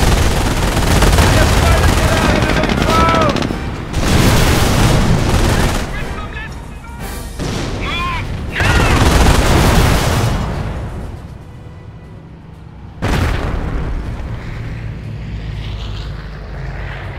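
Gunfire and explosions from a World War II battle in Company of Heroes, with loud bursts of firing and booms in waves, fading into a quieter lull before another sharp blast, with voices shouting over the fighting.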